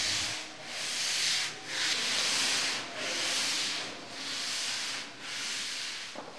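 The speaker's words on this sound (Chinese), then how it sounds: "师傅根据船模外形，从里面一层层涂贴上去，凝固之后拆除船模，就要用人工打磨外观。" Two workers hand-sand the fiberglass hull of a large yacht, the abrasive rubbing in long, even strokes that swell and fade in a steady rhythm, close and alone.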